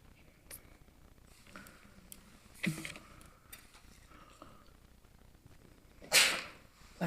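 A single sneeze during a municipal council planning and works committee meeting, sharp and brief against a quiet room, with faint shuffling and a softer sound earlier.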